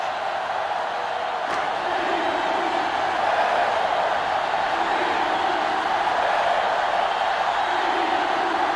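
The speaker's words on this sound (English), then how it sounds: "And this crowd is going crazy" A stadium crowd roars steadily in the video game NCAA Football 2005 on GameCube, during a Clemson versus Georgia college football match, as a dense, unbroken wash of cheering noise that stays loud throughout.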